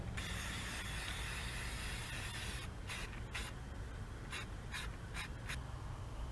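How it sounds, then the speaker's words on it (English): Spray balm hissing from an aerosol can onto a rusty vehicle floor, several short spray bursts in an irregular rhythm over a loud constant background hum. "I'm just going to hit it with some spray balm"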